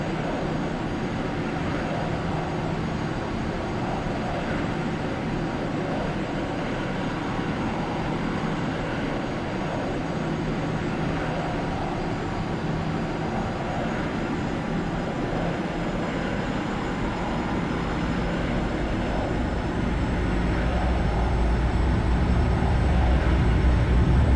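Airliner engines in Microsoft Flight Simulator 2020 roar steadily toward takeoff thrust, a dense continuous rumble with a broad hiss that swells slightly louder near the end, no voices.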